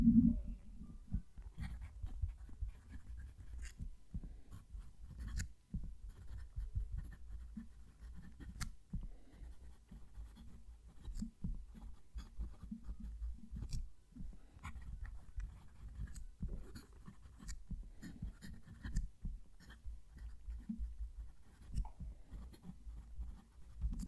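A Kaweco Sport fountain pen moves across paper with a faint, dry scratch. Irregular short strokes and small taps run quietly throughout, with no talk.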